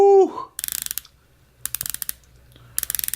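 Close-up ratcheting of a thin German-made Archimede SportTaucher 60 dive watch's unidirectional 120-click bezel with a coated steel insert, heard as three quick bursts of crisp, evenly spaced clicks separated by short pauses.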